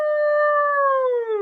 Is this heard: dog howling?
yes